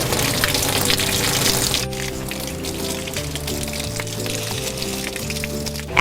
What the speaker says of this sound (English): we're just going to take your filter and wash it off with a hose